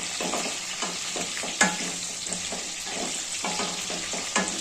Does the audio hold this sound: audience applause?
no